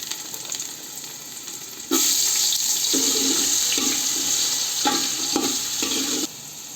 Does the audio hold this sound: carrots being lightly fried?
yes